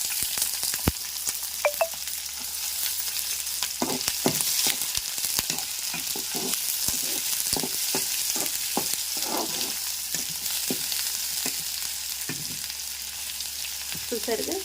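Sliced onion strips sizzle and fry steadily in hot oil, a loud continuous crackle with scattered pops and occasional stirring scrapes throughout.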